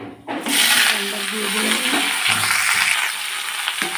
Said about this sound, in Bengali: তরকারিটা আমি এখন সম্বার দেবো পাঁচফোড়ন আর শুকনো লঙ্কা দিয়ে